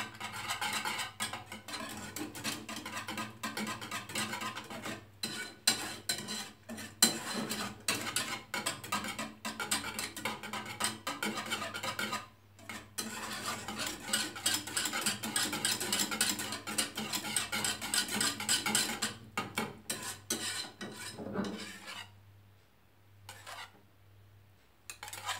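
Béchamel sauce being stirred in a pot as milk is added, a long run of rhythmic metal utensil scraping and clinking against the pan, steady and close, pausing briefly before quieter stirring at the end.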